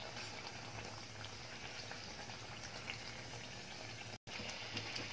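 Chicken vade, a Maharashtrian fried bread, bubble and sizzle steadily as they fry in hot oil over a low gas flame. The frying carries on without a break and no one speaks.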